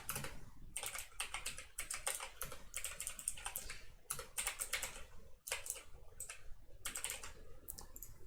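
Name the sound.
typing on a computer keyboard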